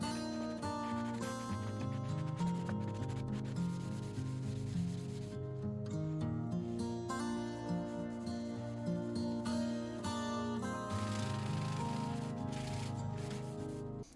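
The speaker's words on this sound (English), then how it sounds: "waited for it to dry, and sanded it off" Steady, continuous rubbing of sandpaper as dried grain filler is sanded off acoustic guitar wood, a close, even scratchy sound with brief pauses in stroke.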